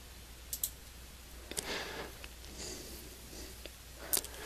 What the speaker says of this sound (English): I'll click on that link so you can see what this looks like.